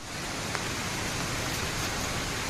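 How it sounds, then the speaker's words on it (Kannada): Steady rain pours down during a family outing in Sakleshpura, a dense, even hiss of falling water filling the air with no voices. "ಒಳ್ಳೆ ಮಳೆ ಬರ್ತಾ ಇದೆ"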